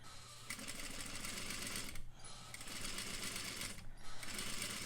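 A sewing machine stitches a curved seam, its needle running in a fast steady buzz with two brief pauses, close and alone without talking.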